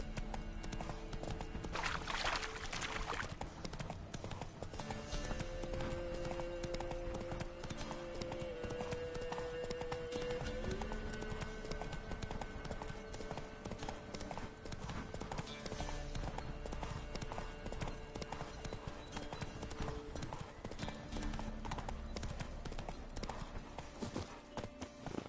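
Roach, the horse in Witcher 3, gallops in a steady rapid clip-clop of hooves, continuous and fairly quiet, under game music and ambient background sounds.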